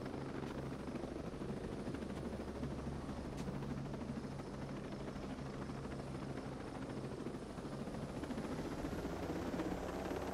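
Helicopter in the video game Ghost Recon Breakpoint gives a steady, continuous rotor and engine drone, even in level and unbroken throughout, with no talking.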